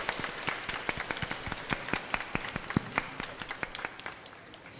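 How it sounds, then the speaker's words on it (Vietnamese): A church congregation applauds at a Vietnamese Martyrs feast-day Mass, steady hand clapping rising and sustained for several seconds, moderately distant and without talk over it. "chúng ta nổ một tràng pháo tay thật lớn, thật dài để chúc mừng tạ ơn Chúa"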